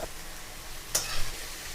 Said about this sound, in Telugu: ముందుగా నేను స్టవ్ని మీడియం ఫ్లేమ్లో ఉంచుకుని ఈ రైస్ అనేది యాడ్ చేసుకుంటున్నాను.